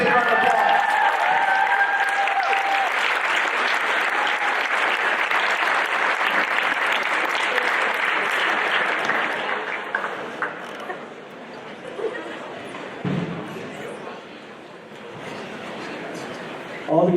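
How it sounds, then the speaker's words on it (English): Big round of applause from a crowd at a high school gym floor dedication, loud sustained clapping that thins out after about ten seconds into scattered claps and murmuring voices. "Give a big round of applause."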